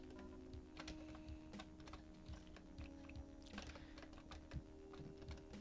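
Rapid computer keyboard key presses in an irregular stream while playing the game Doom with the keyboard alone, clicking steadily and close over a low constant hum.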